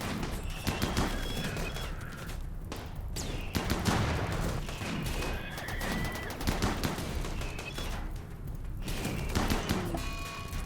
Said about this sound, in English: there goes the rocket launchers